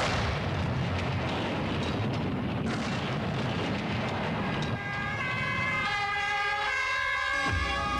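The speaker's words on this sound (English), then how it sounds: "I'm sure nobody's gonna hear the explosion" A deep rumbling explosion from the 1982 Swedish film Jönssonligan och Dynamit-Harry rolls out and decays into a long roar, followed by a rising police siren wail layered over the fading rumble.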